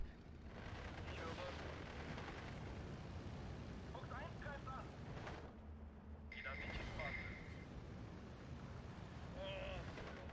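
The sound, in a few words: artillery fire and explosions in video game Steel Division 2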